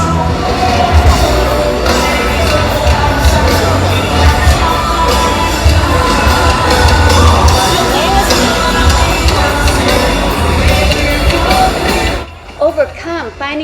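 Dense, loud crowd noise on Fremont Street in Las Vegas, with cheering, shouting and babble running steadily for about twelve seconds before dropping away abruptly to quieter scattered sounds.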